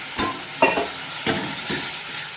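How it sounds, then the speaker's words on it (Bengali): Small splash of water added to a frying pan of vegetables in a home kitchen: four short bursts of scraping and sizzling from stirring, close and fairly loud against a steady hiss. "এবার এর মধ্যে একটু জল দিয়ে দিচ্ছি।"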